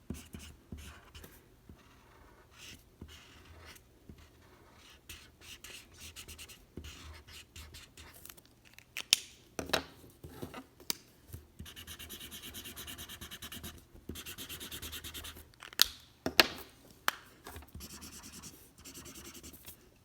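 Crayons or markers scratch and rub back and forth across paper while paper flames for a craft candle are coloured in, a quiet, close, irregular scribbling that goes on throughout with no talking.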